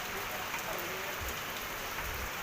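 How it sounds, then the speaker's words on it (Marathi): Dense, steady downpour of heavy rain drumming on surfaces, a constant hiss with no pauses. "कसा मोठा पाऊस पडत आहे बघा"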